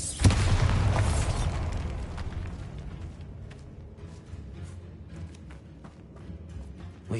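Confringo and Bombarda spells go off in Hogwarts Legacy on PS5: a sharp explosive burst opens, followed by a rumbling blast that slowly fades, with scattered pops and footstep-like clatter trailing after.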